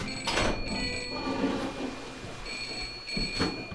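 Telephone bell ringing in bursts, a loud near trill that stops and then rings again, with a couple of bumps in between.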